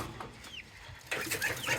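Chickens clucking and calling in a backyard coop on a rainy day, a few short squawks and clucks close by, louder toward the end, with faint background noise.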